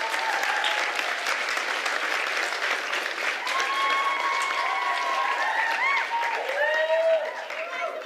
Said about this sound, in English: Big round of applause for Mayora.